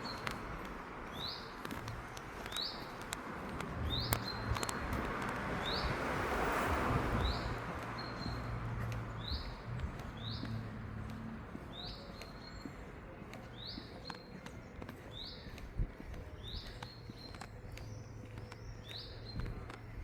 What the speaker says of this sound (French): Je vous laisse admirer le cours d'eau et écouter le chant des oiseaux.